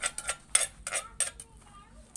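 Snakehead fish goes into a cooking pot with a series of sharp metallic clinks and clatters of utensils against the pot, some louder than others, close and with short gaps between them.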